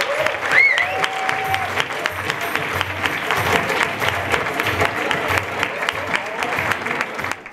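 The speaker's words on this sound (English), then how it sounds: "Let's hear a loud cheer for this whole evening right now." A large crowd cheers and applauds continuously, loud and dense, with a few whistles near the start.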